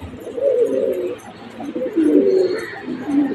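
Pigeons coo in soft, repeated rolling bursts at close range as they file one by one into their loft, with faint chirps higher up.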